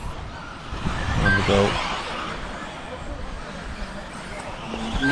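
A Team Associated B74.2 4WD electric RC racing buggy runs laps on a race track among other cars, a mid-distance motor whir that swells and fades beneath a race commentator's voice and crowd chatter.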